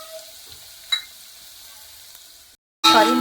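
Onion-garlic masala paste and homemade black masala with spices frying in hot oil in a pot, a steady close sizzle with a brief stir sound, then a short silence before a louder burst of sizzling.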